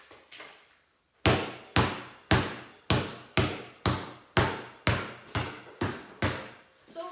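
A basketball is dribbled in a steady rhythm, about a dozen sharp, evenly spaced bounces on a hard floor, close and loud after a quiet start.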